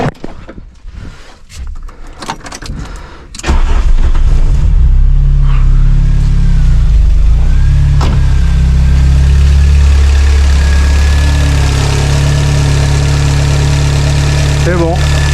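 A car engine starts after a few seconds of clatter and then idles loudly and steadily nearby, with a deep rumbling hum that holds through to the end.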